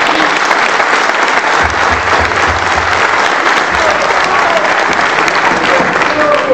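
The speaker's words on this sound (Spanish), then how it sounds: "Vamos a recibir a Rosalía con un fuerte aplauso." Loud, sustained applause from a crowd welcoming a speaker at a book presentation on Mexico's electricity sector, a dense, steady roar of clapping throughout with some murmuring underneath.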